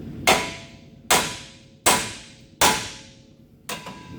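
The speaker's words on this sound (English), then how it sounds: "a few good smacks on this with a hammer, and it should come out." Five loud, sharp metallic hammer blows strike a tie rod end on a 2005 Chevy Silverado at a steady pace, each one followed by a brief ringing decay.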